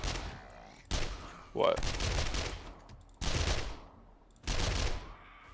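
Loud bursts of gunfire in the zombie survival video game 7 Days to Die, coming in about four separate volleys with short gaps. A brief voice speaks between shots.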